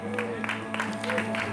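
Scattered applause and light crowd noise greet runners arriving at the finish of a small road race, the clapping brief and moderate in level.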